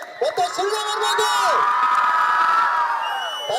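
A crowd of fans at a movie promotion event for actor Upendra in Hubballi cheers and whoops loudly, a sustained swell of shouting voices that rises and holds for several seconds.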